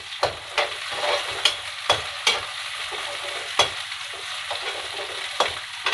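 Mustard seeds and curry leaves sizzling in hot oil for poha: an even crackling hiss punctuated by sharp, irregular pops and spits, close and fairly loud, with no talking.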